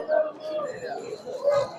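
Pigeon cooing at a busy pigeon market, soft repeated coos close by, mixed with a low murmur of people talking in the background.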